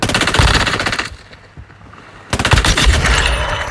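Rapid machine-gun bursts ring out in the shooter game Warzone Mobile. A loud stretch of fire stops briefly, then a second sustained burst of dense automatic shots follows.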